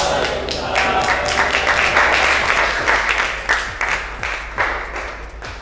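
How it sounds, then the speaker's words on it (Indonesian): A classroom of students claps after a group discussion on workpiece measurement, a fairly loud, sustained patter of many hands with distinct individual claps over a low hum. "Tepuk tangan"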